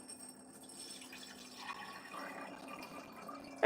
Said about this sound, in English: On this side, I'm going to add some tap water.